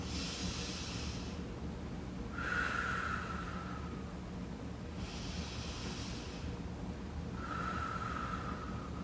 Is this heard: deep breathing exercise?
yes